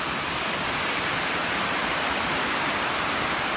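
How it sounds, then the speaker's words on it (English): Waves recede over a pebble shoreline on New Zealand's West Coast, a dense, steady hiss of water rushing through stones, close and unbroken. "the shoreline, if you will, is made up of millions of little pebbles, and as the water recedes back, you can hear it"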